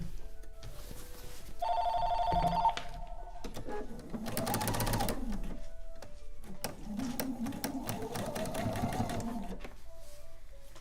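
A telephone rings in short repeated bursts inside a quilting sewing room, heard close and fairly loud, with no one speaking over it.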